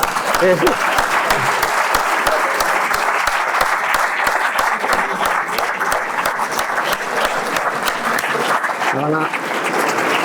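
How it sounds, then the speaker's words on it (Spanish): Sustained audience applause after a performance, steady and dense throughout with loud individual claps close by, while someone talks over it briefly near the end. "Otro aplauso más"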